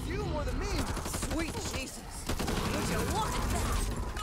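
Rapid gunfire bursts from Back 4 Blood rattle almost continuously over a busy mix of game effects, with chatter and a voice weaving through the fighting.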